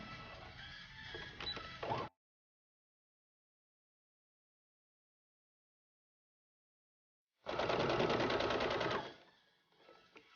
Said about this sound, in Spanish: Voy a coser así como unas pinzas.